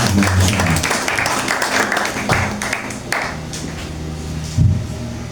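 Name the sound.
congregation applauding in church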